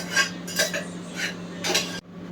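Crab pieces are tipped into masala in a metal pan, giving several clattering scrapes and knocks of shells and utensil against the pan, then a quieter tail.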